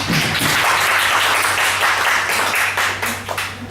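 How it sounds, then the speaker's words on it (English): A room full of people clapping steadily, sustained applause that tapers slightly toward the end, with a low hum underneath. "Please give him a round of applause."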